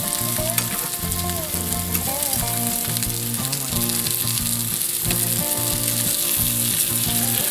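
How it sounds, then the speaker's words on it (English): Kidney beans cooking in a pot on medium-high heat give a steady, close sizzling bubble that runs without a break, with a few soft stirring sounds on top. "I'm going to turn my kidney beans on to about medium high and let them kind of come to a simmer there"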